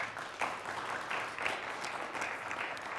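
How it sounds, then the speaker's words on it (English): A quiz show studio audience gives the Auburn Knights team a round of applause, a soft, steady patter of clapping heard from a distance. "let's have a round of applause for the Auburn Knights"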